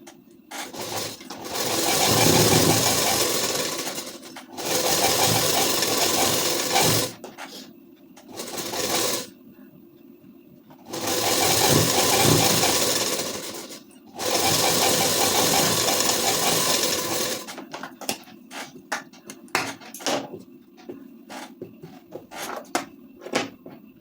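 A sewing machine stitches the sleeve of a ladies' suit in several long, loud runs of steady whirring, separated by short pauses, with clicking handling noises at the end.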